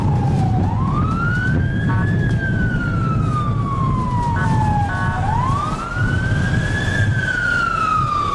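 A convoy of two ambulances and a prison-service unit arrives at Hospital Roosevelt with loud, close sirens wailing in slow rising and falling sweeps over steady engine and traffic rumble.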